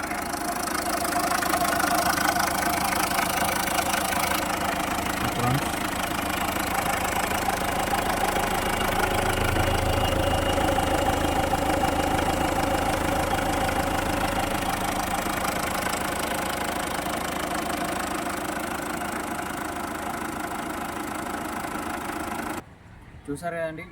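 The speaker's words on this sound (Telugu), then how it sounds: "వెహికల్ ఒక ఇంజన్ వ్యూ చూపిస్తాను, చూడండి." A 2021 MG Hector Plus Sharp SUV idling with the bonnet open, a steady even engine hum with a low throb holding for about twenty seconds before cutting off abruptly near the end.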